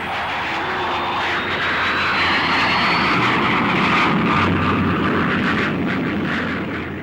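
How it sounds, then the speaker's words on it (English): American U-2 high-flying spy plane passing in flight, a loud steady engine roar with a rising whine, sustained throughout with no talk. "high-flying aircraft, like this American U-2, which used special cameras to photograph military installations"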